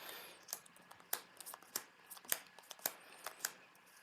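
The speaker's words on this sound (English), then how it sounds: "I'm going to draw Steve Rogers' starting hand of 6 cards" A starting hand of six Marvel Champions cards is drawn from a deck, a string of soft crisp card snaps and slides at an uneven rhythm, close and quiet.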